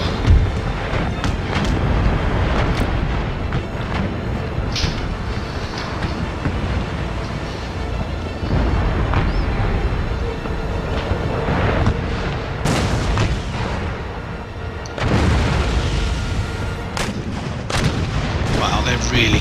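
Naval cannon broadsides from ships in the strategy game Empire: Total War, heavy booming shots rolling one after another over a continuous rumble of battle, loud and dense throughout, with occasional sharp cracks.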